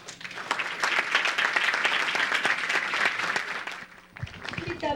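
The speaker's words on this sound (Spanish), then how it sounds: "Les damos nuevamente un fuerte aplauso" An audience at a public parliamentary hearing on front-of-package nutrition labelling breaks into steady, dense applause that fades near the end, followed by a voice starting to speak.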